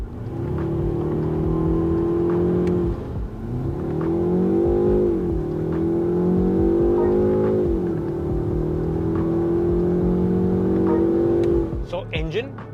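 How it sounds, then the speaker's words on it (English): A 2024 BMW 5 Series petrol engine revs hard in repeated rising pulls, each climb of the exhaust note breaking off at a gear change before building again, loud and close from inside the car, with someone talking over it. "This petrol engine, it sounds very nice"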